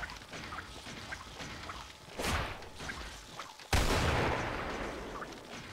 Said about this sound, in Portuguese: Dá um tiro de hand cannon.